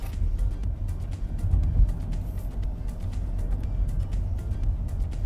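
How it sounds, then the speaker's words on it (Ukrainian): A 2019 VW e-Golf electric car pulls away and gathers speed, a low steady hum and road rumble heard from inside, fairly loud and continuous with no engine note. "Мені подобається, як ця машинка розганяється."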